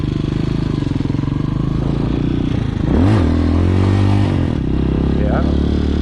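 A Hawk 250 motorcycle engine runs nearby with a pulsing idle, then revs up sharply around the middle and holds a higher drone before easing off, accompanied by some clatter.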